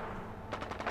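A quick burst of rapid gunfire rattles out in the second half, faint and distant over a low steady background hum, in the video game Fallout 4.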